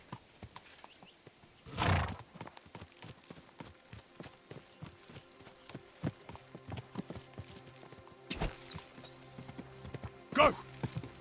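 Hooves of a horse in Kingdom Come: Deliverance II clop steadily at close range, punctuated by a couple of louder bursts and a brief whinny toward the end.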